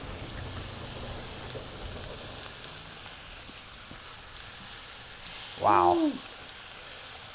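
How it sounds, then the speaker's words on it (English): Homemade bacon fries in a pan with a soft, steady sizzling hiss and faint crackle throughout, and a person briefly exclaims near the end. "Listen to that sizzle."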